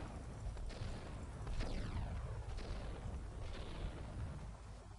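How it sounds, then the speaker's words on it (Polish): Explosive charges detonate in the shooter game Max Payne 2, heavy booming blasts with rumbling low ends and crackling debris, several bursts overlapping at moderate loudness. "Kolejne ładunki wybuchowe."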